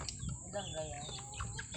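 A rooster clucks and murmurs in short, close calls against a low background hum, with faint voices in the background, on a farm.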